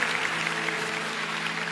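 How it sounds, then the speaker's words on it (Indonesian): A church congregation claps in praise during a sermon, a steady, even patter of many hands at moderate volume, with a faint sustained tone underneath. "kita kasih tepuk tangan untuk Tuhan"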